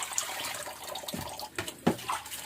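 Water runs and splashes into a tub, an uneven gushing with a few louder sloshes and drips, fairly close and heard alone without speech.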